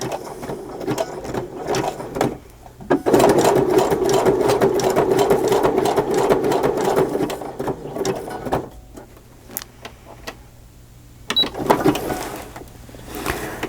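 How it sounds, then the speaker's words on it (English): A sewing machine back-stitching through a paper journal cover made to look like a crazy quilt, its close, steady mechanical whirr running in several bursts with short pauses between and no talk over it. "First I'm going to back stitch it back to the corner."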